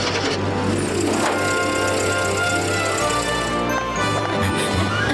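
A car engine runs steadily in a TV comedy scene about a car fuelled by lemon water, a continuous mid-pitched hum with slight revving, fairly loud with a brief voice over it.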